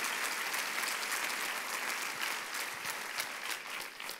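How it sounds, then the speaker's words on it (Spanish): Applause from a church congregation during a sermon, with sustained clapping at full strength that thins a little toward the end. "Cuánto dan un aplauso al Rey de Reyes"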